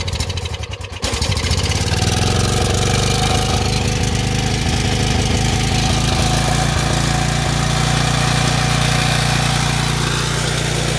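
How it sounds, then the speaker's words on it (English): A generator with a bad carburetor running on pure propane after an experimental conversion, giving a loud, close, steady engine drone that picks up after a brief start and holds fairly smoothly throughout. "the generator is now running on pure propane"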